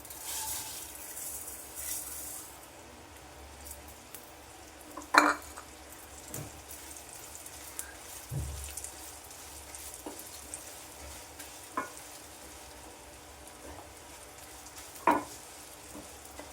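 Unroasted semiya vermicelli dry-roasting in a pan toward golden brown for kesari, a quiet, steady sizzle broken by a few sharp clicks and scrapes of stirring.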